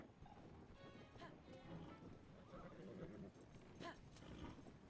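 A horse in the video game The Legend of Zelda: Tears of the Kingdom gives a loud whinnying neigh over steady clip-clopping hooves and wind, with a second neigh following a few seconds later.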